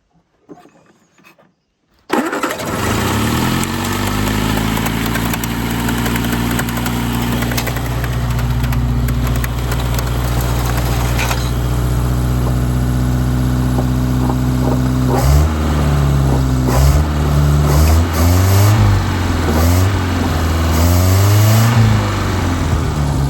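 A 50-year-old vehicle engine, standing still for decades and just refitted with a carburetor, cranks and catches after a brief quiet moment, then runs steadily with a loud, close idle and rises into repeated revs toward the end.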